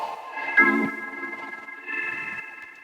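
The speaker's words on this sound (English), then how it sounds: "that like rippling sound you hear, where it's kind of like dropping in and out" A sustained tonal sample wavers and ripples, its pitch and level dipping in and out with a warbly, tape-like flutter throughout.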